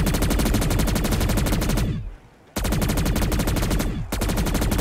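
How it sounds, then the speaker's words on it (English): M60 machine gun fire in a zombies shooter game, long rapid automatic bursts broken by a short pause and a brief dip, loud, close and steady, with no talking. "I'm starting to run out of ammo in my M60."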